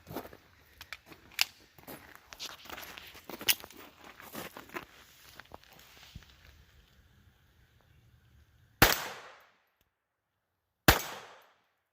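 .22LR rifle shots fired over a chronograph, with two sharp, loud reports a couple of seconds apart standing out against the quiet that follows. Earlier, softer clattering and handling noises fill the background.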